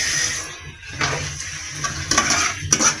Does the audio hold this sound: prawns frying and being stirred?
yes